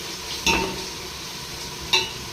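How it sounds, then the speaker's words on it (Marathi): Ginger, garlic and mint frying in a pan, a steady soft sizzle broken by two sharp stirring scrapes of a spoon against the metal. "आलं लसूण आणि पुदिना छान भाजल्यानंतर"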